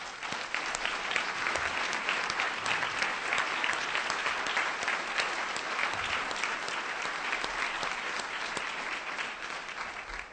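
Audience at a National Press Club event gives a teacher a round of applause, a sustained, even roar of many hands clapping, steady for about ten seconds and tapering slightly at the end.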